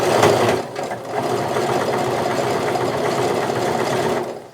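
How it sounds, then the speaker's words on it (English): An overlocker runs steadily as it sews the edges of a knit sweater and fleece together for a throw pillow, a close, continuous mechanical whirring and rattling that holds level and stops abruptly at the end. "So that's the edge that you want to make sure you're catching with the overlocking."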